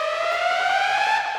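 A loud, steady electronic siren blares continuously at close range, its tone holding high and slightly sliding, with no voices.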